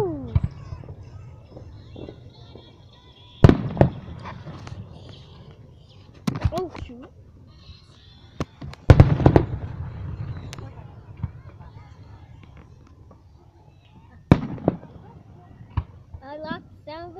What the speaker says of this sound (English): I like the sound of explosion